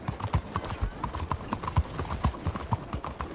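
Horse hooves clip-clop at a steady walking rhythm on a road in Red Dead Redemption 2, close and fairly loud, with no talking over them.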